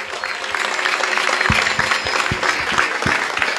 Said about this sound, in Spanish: Y este aplauso, que se vaya hasta el cielo.